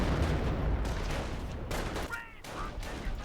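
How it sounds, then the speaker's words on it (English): Artillery barrage in the WWII strategy game Company of Heroes, a dense rumbling roll of blasts and gunfire that dips briefly midway before resuming, loud and close. "the Pioneers got annihilated by the artillery"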